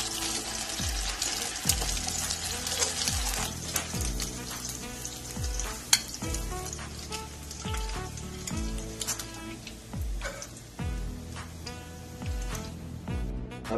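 Burger patties fry loudly in a hot pan, giving a continuous close sizzle that swells as they are flipped, with scattered clinks and scraping throughout.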